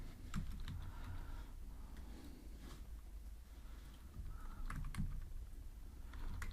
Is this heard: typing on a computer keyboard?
yes